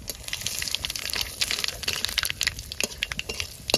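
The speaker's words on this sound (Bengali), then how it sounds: "মাছ ভাজা তেলের উপরে ফোড়ন দিয়েছি" Spices such as dried red chillies and nigella seeds crackle and spatter in hot oil left from frying fish, a dense, close run of sharp pops and sizzling bursts.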